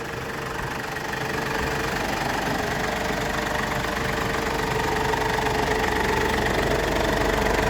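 A 2010 Ford pickup's 2.5 litre engine idles steadily close by, with a low, even knocking rumble and no voices over it.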